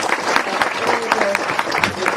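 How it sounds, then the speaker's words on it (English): Audience members at a talk event give a round of applause: a brief, thick burst of clapping from a crowd that stays steady throughout, with a hint of voices mixed in. "a big round of applause for your time and your passion"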